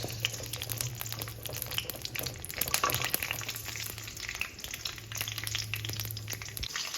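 Green chillies fry in a pan with a steady, close sizzle and crackle, the spitting oil holding an even level throughout with no voices over it.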